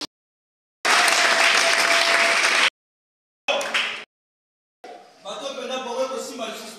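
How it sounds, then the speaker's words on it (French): A church congregation bursts into loud, sustained applause for the Lord, then a shorter second round, before a preacher's voice returns over lingering clapping. "Est-ce qu'on peut acclamer pour le Seigneur?"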